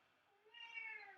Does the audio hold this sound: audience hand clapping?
no